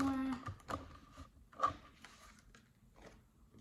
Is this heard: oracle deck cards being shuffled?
yes